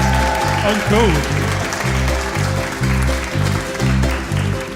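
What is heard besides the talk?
audience applause for band members at live show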